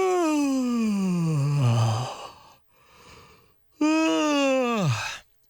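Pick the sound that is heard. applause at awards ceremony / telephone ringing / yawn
yawn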